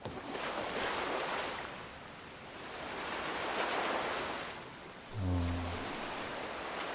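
Open ocean at night in an anime scene with a Viking-era ship at sea: steady rolling surf and swell rising and falling, with a low drawn-out creak or groan near the end.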